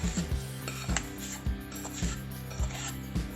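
Roasted semolina is scraped and transferred out of a pan with a spoon, producing a repeated rhythmic metallic scraping and knocking roughly every half second, fairly quiet with no talking.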